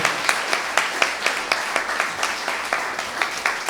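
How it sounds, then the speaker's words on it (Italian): Applause for Tullio De Piscopo at the Venice international Golden Lion prize event, a dense crowd clapping steadily with audible individual hand claps throughout, fairly close. "Un grande applauso, se lo merita veramente tutto"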